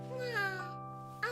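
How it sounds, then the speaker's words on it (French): A cartoon cat meowing, a soft, drawn-out mew followed by a brief second cry near the end, fairly quiet and close. "Un chat."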